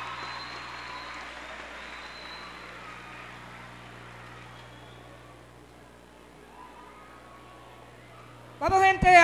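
An audience at a 2016 regional festival applauds a performing group from circuito 03 Changuina after their undersea-themed piece, a soft, steady wash of clapping that slowly fades before a voice cuts in at the end.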